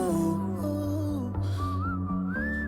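A whistled melody in a song, bright wavering notes gliding up and down over a steady musical backing.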